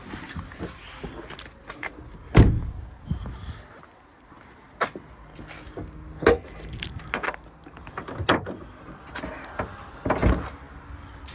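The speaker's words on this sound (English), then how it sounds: "And open the bonnet." Bonnet of a 2023 Toyota Kluger GX hybrid being released and lifted, heard as a series of sharp wooden-sounding clunks and latch knocks spaced irregularly, close and moderately loud, with quiet handling noise between them.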